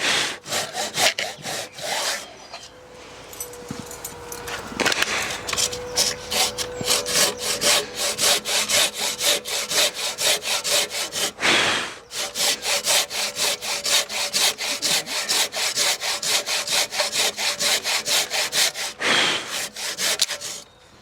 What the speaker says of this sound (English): The plywood has just blown. I just caught the edge of it with my saw.